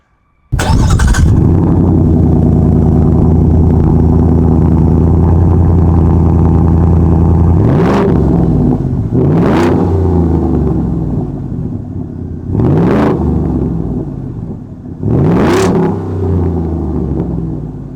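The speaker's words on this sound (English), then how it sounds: "a Borla S-Type dual exhaust system" A Ford F-150 single-cab pickup with a Borla S-Type dual exhaust starts loudly and idles with a deep rumbling exhaust, then gets blipped into four sharp revs that rise and fall.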